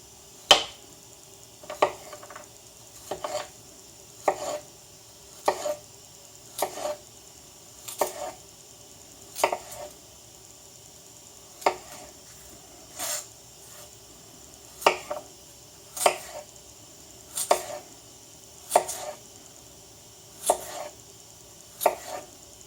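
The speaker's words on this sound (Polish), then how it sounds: "W pierwszej kolejności kroimy ziemniaki w plastry około pół centymetra." Potatoes sliced into half-centimetre slices with a knife on a cutting board, a steady run of sharp, evenly spaced chops close up, with no talking.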